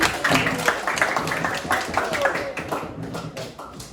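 A class claps hands together in a classroom, with a dense, steady patter of many clapping hands lasting several seconds, fairly close and loud.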